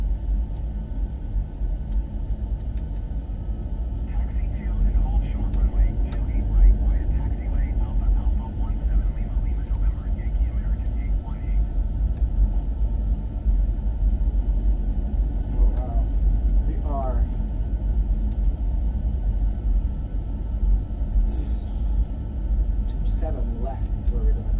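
Boeing 737 taxiing at dusk in Chicago, engine noise heard from the cockpit as a steady low rumble and hum throughout, with faint cockpit chatter and a few brief clicks and beeps over it.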